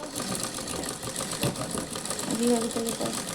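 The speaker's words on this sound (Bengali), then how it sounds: "আমি সেলাই করে নিচ্ছি কাপড়টাকে তুলে ভালোভাবে সেলাই করে নিতে হবে" A sewing machine runs steadily while stitching fabric onto a woven mat to make a ladies' purse, a continuous mechanical whir with a person speaking over it.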